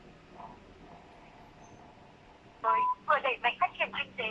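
A Nokia 110i phone's ringback tone sounds after quiet background, a short tone followed by a rapid series of repeated electronic pulses, fairly close and clear.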